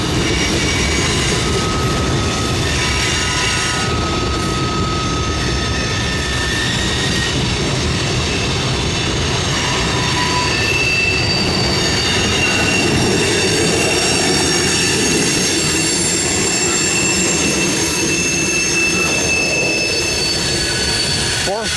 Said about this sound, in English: 457 is a daily train that goes to the Orlando area.